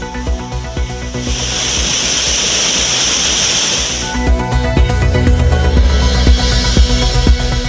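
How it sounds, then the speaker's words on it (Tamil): Courtallam's waterfalls in flood after heavy rain, a loud, continuous roar and hiss of rushing water heard close by, steady at first and then turning rougher and more turbulent. "மழையால் குற்றாலத்தில் அனைத்து அருவிகளிலும் வெள்ளப்பெருக்கு."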